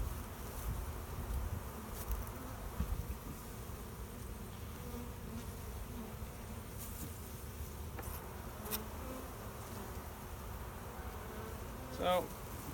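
A honeybee colony buzzes steadily as a hive is opened for inspection and moved in a beer-cooler hive, a dense continuous drone near the frames with a few brief louder passes.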